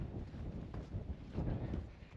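Cold wind buffeting the microphone on an exposed winter moorland walk near Bleaklow Stones, a low, gusty rumble that swells and fades over a couple of seconds.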